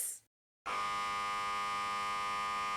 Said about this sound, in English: Extremely loud and correct buzzer noise.